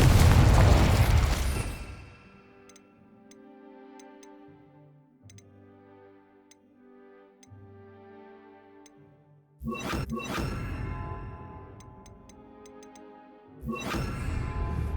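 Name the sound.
Confringo blasting spell explosion, from video game Hogwarts Legacy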